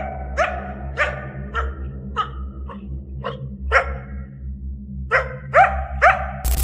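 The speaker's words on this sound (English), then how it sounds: "he follows the sound and spots the animal barking repeatedly at what seems like empty space" Coyote on a Yosemite trail barking repeatedly, a series of sharp, fairly close yaps in an irregular rhythm over quiet background, with no talk.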